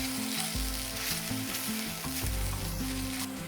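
Vegetarian keema being sautéed with spices in a pan, a loud continuous sizzle with repeated scraping stirs over a steady low hum, and no voices.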